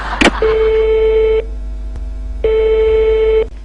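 A telephone call signal plays two long, loud steady beeps separated by a pause, starting just after a short burst of noise, with a low constant hum underneath.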